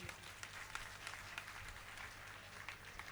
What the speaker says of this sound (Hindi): यहाँ पर बाहर इन कटंगी के जितने भी नव युवक हैं इनके लिए तो एक बार ताली बजा दीजिए